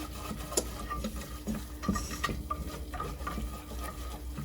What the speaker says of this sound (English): Robert's making the roux, which was the butter and the flour.